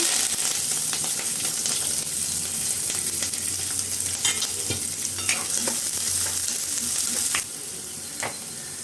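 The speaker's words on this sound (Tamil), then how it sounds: "இப்போ கடுகும் உளுத்தம்பருப்பும் நல்லா பொரிஞ்சிச்சு வெங்காயம் பச்சை மிளகா கருவேப்பிலை எல்லாம் போட்டுக்கலாம்" Onion, green chilli and curry leaves sizzling in hot oil with popped mustard seeds and urad dal for a sweet potato podimas, a steady loud frying hiss with scattered crackles and a few spoon scrapes, no talk.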